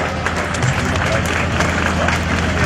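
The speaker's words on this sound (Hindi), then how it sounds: "जोरदार तालियां" Applause and crowd noise at a police training passing-out ceremony fill the hall without a break, a dense wash of clapping.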